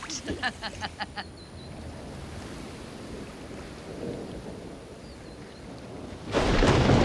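Thunder rumbles low and sustained through a lightning storm over water, following a short burst of rhythmic tapping, then swells into a loud roaring surge near the end.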